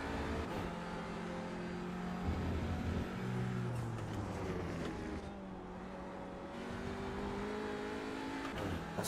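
Race car engine in iRacing, loud and continuous, the pitch dropping on downshifts and climbing again as the car powers through a corner.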